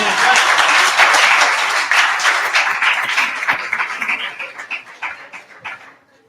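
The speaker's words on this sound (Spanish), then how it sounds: "si va a aplaudir, aplaudan todos" A church congregation applauds during a sermon, a dense wash of clapping that starts full and loud, then thins into scattered claps and fades out over about six seconds.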